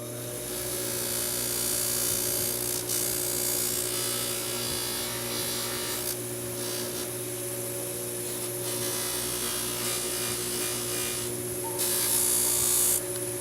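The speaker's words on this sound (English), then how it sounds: "I'm going to use this to hold the ring so I can buff it." A handmade ring held on a jeweler's cone and buffed with buffing compound: a steady, close motor whine with a hissing rub of friction that runs without a break.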